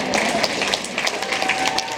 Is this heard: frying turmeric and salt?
no